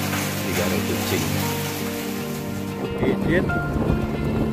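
Steady heavy rain with a low rumbling undertone like distant thunder, a voice faintly audible underneath toward the end.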